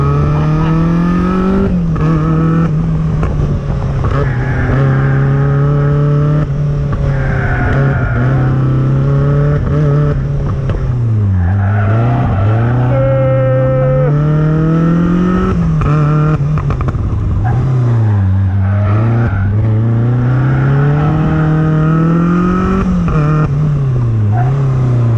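A manual-gearbox car's engine revs loud and close, rising and dropping through gear changes with steady drive tone, the car being pushed hard in a setting built for drifting.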